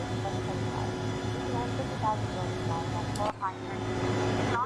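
Inside an Embraer 145 airliner in climb, a steady cabin drone of jet engines and airflow holds throughout, with a tonal whine and a brief dip near the end. Voices talk over the hum.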